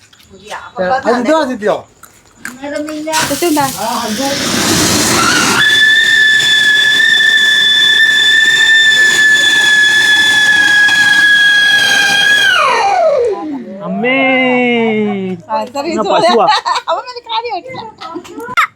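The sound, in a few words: whistling firework rocket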